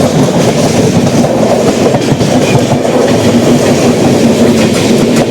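Rayalaseema Express rushes past near Tirupati with a loud, continuous rumble and rhythmic clickety-clack of wheels over rail joints throughout.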